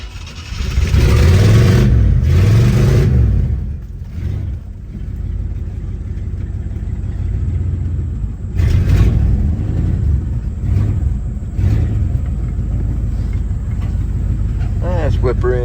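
A car with an unfinished, work-in-progress build drives and revs, its engine rumbling loud and close, surging in bursts at the start and again midway, with people talking over the engine noise.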